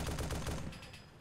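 Rapid automatic gunfire in the video game DayZ, a quick burst of loud repeated shots that stops abruptly and trails off into a fading echo.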